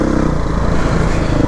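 A Beta 480RR dirt bike engine labours on a tough mountain trail, giving a loud, close, continuous low rumble that stays steady throughout without clear revving.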